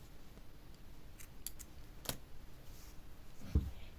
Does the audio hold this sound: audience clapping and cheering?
no